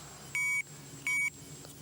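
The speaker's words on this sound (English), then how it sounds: "Now, I'll switch on the bite alarm." Electronic bite alarm on a pike fishing setup by a river, two short sharp electronic beeps evenly spaced, close and clear over quiet outdoor background.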